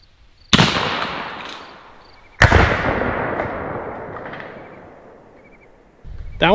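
An AEA Zeus air-powered arrow gun fires arrows at a gel target, giving two sharp loud blasts that each trail off in a long decaying hiss, followed by a third burst starting at the end.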